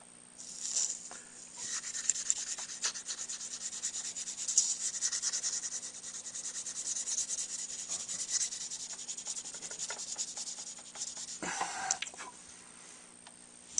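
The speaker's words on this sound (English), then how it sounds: "sanding stick to push it around. Finest sandpaper just in case it slips." Fine sandpaper on a sanding stick rubs steadily against a mouthpiece, a soft continuous scratchy friction with small strokes, close up, ending with a brief knock near the end.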